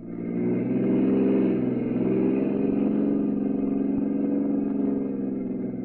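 A car drives along a road as a radio-drama sound effect, a steady mid-pitched engine hum that swells slightly and holds at moderate loudness, with no voices over it.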